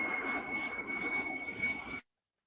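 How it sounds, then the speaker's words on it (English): A large airplane passes overhead near an airport, giving a steady, broad jet roar with a sustained whine that holds for about two seconds and then cuts off abruptly into silence. "big planes are coming by"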